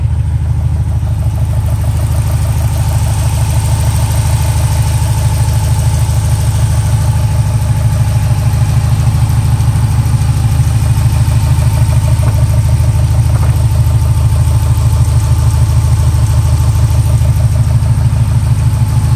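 A Jeep JK with a 392 Hemi V8 idles at low RPM, a steady, loud, deep rumble with an even pulsing throb that holds unchanged and close by for the whole stretch, with no voices.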